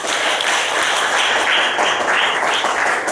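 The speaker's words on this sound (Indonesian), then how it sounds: "kasih tepuk tangan dulu untuk Mas Dikta" A group claps loudly and continuously for Mas Dikta at a training session award announcement, close and dense applause filling the whole moment without any speech.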